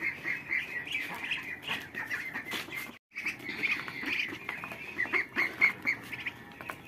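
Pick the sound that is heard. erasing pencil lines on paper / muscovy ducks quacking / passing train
muscovy ducks quacking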